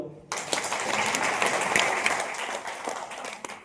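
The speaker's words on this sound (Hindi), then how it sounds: "धन्यवाद जी के लिए ताली बजाओ" Audience clapping at an RCM business meeting, starting abruptly and holding as a dense, even patter of many hands for a few seconds before tapering off.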